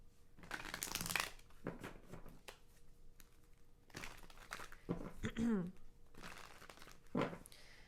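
Tarot cards being shuffled and handled in a series of dry, papery riffles and crinkly flicks in irregular bursts, with a voice speaking softly between them.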